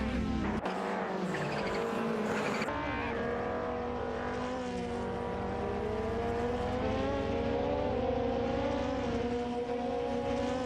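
Race cars in an AI racing video game scream past in a dense pack, engines revving and shifting pitch as they overtake, loud and continuous with overlapping whines.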